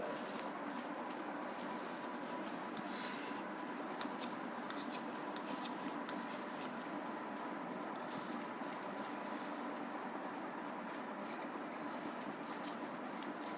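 A pen scratches and rubs across paper while a graph is drawn, with steady close scratching strokes and faint talk underneath.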